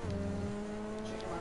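A Ferrari engine revs in the GTA 5 video game, a short steady engine drone with a low harmonic hum that shifts pitch slightly, heard for just over a second.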